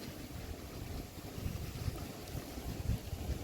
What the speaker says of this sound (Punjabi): ਹਵਾ ਵੀ ਹੈ ਠੰਡੀ ਠੰਡੀ ਚੱਲਦੀ ਦੇਖੋ ਕਿੰਨੀ ਤੇਜ਼ ਚੱਲਦੀ ਹੈ ਹਵਾ